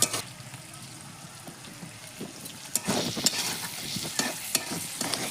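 Tomatoes dropped into onions frying in hot oil with cumin, starting as a quiet simmer before a burst of sizzling and sharp spatula scrapes and stirring clatter close up, with no talk.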